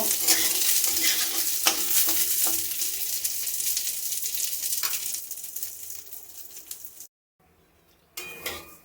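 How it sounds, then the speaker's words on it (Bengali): Lentils sizzle steadily in hot oil while a spoon stirs and scrapes the pan, then a brief quiet before the sizzling resumes. "ডালটা আমি ভালো করে লাল লাল করে একটু ভেজে নেব।"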